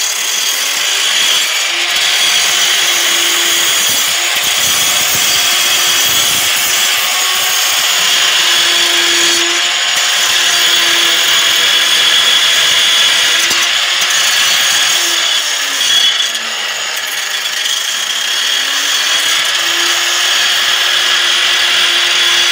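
An angle grinder runs steadily and loudly at close range for a long stretch, its motor whining with small shifts in pitch as it bears on the work, with no talk.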